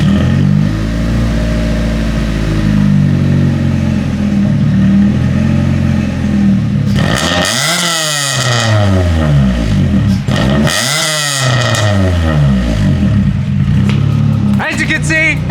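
Stock exhaust on a Honda Civic (EK/EG generation) revving repeatedly, loud and close: a steady idle drone, then two sharp throttle blips that climb and fall, with a brief rev at the end.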